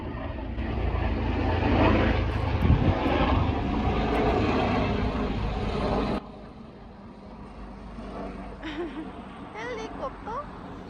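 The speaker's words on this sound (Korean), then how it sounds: "헬리콥터?" A helicopter flies overhead near the sea on a windy, rainy day, its engine rumble loud and steady for several seconds before dropping off abruptly, with wind noise and faint voices around it.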